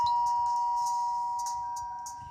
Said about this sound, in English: The bell rings and no one answers.